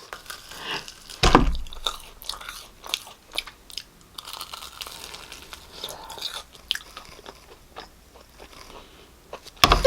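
Several crisp crunching bites into a cream-filled, fish-shaped bungeoppang pastry pressed crispy on an oiled griddle, with quiet chewing in between; one loud bite near the start and another at the end.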